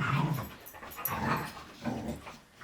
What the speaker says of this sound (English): The dogs are gonna play while we're doing this